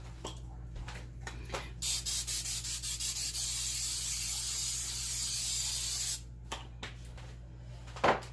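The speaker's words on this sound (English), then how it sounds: "I think I'll give them a little spray to help them along." A cooking oil aerosol spray hisses in a run of short bursts and then one long steady spray, close up, with a few light clicks and taps around it.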